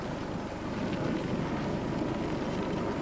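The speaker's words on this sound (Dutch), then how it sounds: "hier is het een guur gevecht tegen die straffe wind" Strong wind roars across the microphone over open ice during the 1997 Elfstedentocht skating race in the Netherlands, a dense, constant rush, loud and close, with no voices.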